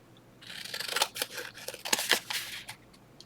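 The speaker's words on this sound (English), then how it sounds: "And then my scissors are going to need cleaning off. It's got little pieces of paper that's growing on them." Paper-crafting scissors being cleaned of little stuck paper pieces, a run of close, crisp snipping and scraping strokes in quick irregular bursts, with no talk.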